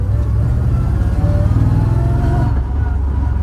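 A 1962 Chevy Corvette engine pulls in second gear, a loud close rumbling drone that holds steady and drops slightly near the end, with no talking.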